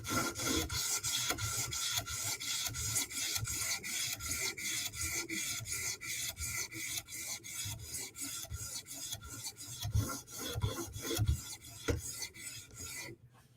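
A Sebenza or Yojimbo folding knife is drawn across a whetstone for a mirror-edge polish, giving a steady run of close, rhythmic rasping strokes that continues without any voices.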